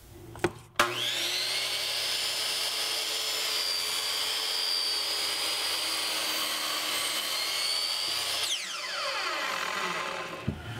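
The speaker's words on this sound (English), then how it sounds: "I finished cutting all the boards to length" A saw cuts reclaimed lumber boards to length, a sharp start followed by a long, steady, loud whirring cut, then spins down into a fading whine with a clack at the end.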